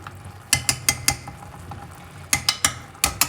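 An iron spoon stirs shallowly in a worn, old frying pan, producing sharp metallic clinks in two quick bursts of four to five taps each, close and distinct.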